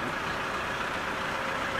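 Road traffic rumbling past outdoors in the wind, a steady dense wash of engine and tire noise without clear breaks, moderately loud and without speech.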